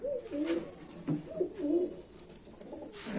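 Kashma pigeons coo close by in a series of soft, rolling low calls with short pauses between them, and no talk over them.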